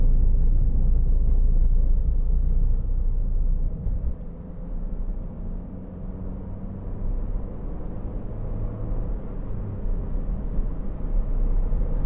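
Steady low engine and road rumble inside a 2009 MINI Clubman Cooper 1.6 five-door on a test drive, loud and continuous, easing slightly midway then building again, with no talking.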